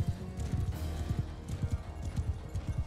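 Cavalry horses gallop in a Mount and Blade Bannerlord siege battle, a steady rapid drumming of many hooves with clip-clop thuds and an occasional whinny, loud and continuous.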